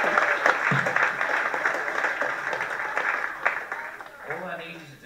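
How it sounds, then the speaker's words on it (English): A comedy show crowd breaks into sustained applause, dense and fairly loud clapping filling the room, with a voice speaking briefly near the end. "Can we give a round of applause for Sean as the joke man today?"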